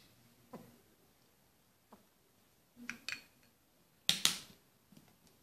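A spoon or utensil clinks and taps against a container while baby shampoo is mixed into a dandruff remedy, with scattered light knocks and a couple of sharper strikes, quiet and close, no talking.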